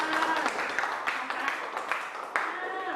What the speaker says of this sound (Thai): ปรบมือให้ตัวเองหน่อยค่ะ